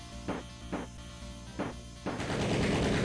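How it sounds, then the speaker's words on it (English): Enemy gunfire in the DOS shooter Gore Galore, three spaced, punchy shots over a droning background, then a harsh sustained burst of noise, moderately loud with no talking. "For some reason, enemies like to shoot at you even when they can't see you."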